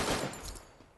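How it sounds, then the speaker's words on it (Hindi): Gunfire in the mobile battle-royale game Free Fire, a single burst of shots in a ranked match, sharp and fairly loud then fading within a second, with no talk over it. "जैसे ही निकला एक गोली चला के।"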